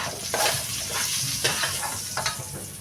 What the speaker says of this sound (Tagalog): Stir fry lang natin sandali yan.